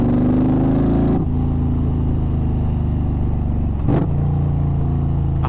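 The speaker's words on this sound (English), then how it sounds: "the exhaust itself is really nice" A car fitted with an aftermarket exhaust revs and pulls away close by, a deep droning engine note that climbs, drops sharply as gears shift, then surges again, loud and with no voices over it.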